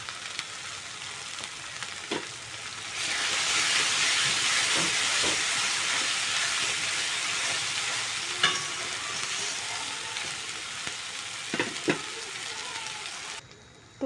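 Spice masala with salt and chili powder sautéing in a pan gives a steady, loud broadband sizzle that swells after a few seconds and holds, broken by occasional sharp spatula scrapes and clicks, with no talking.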